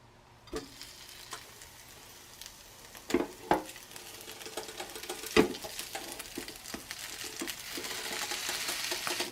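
Matzah fish cake patties cook in a preheated pan, with a few sharp clinks and taps giving way to a soft sizzle that steadily builds in loudness, and no one speaks.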